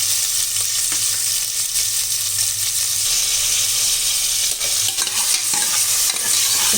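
Tomato, curry leaves and crushed garlic sauté in a pan for mutton soup, a steady loud sizzle with stirring scrapes running throughout, no voices.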